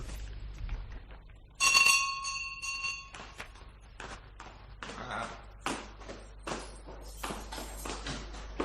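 Doorbell at a house door at night rings once with a bright chime, followed by footsteps and soft knocks that fade under the room's low hum.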